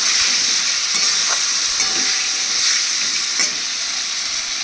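Green and red chillies, turmeric, a pinch of sugar and salt fry in a pan for a fish curry, giving a loud, bright, continuous sizzle with a few soft scrapes of stirring.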